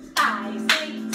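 Hands clap to the beat of music in a children's disco dance class, with two loud, close claps about half a second apart and a third starting at the very end.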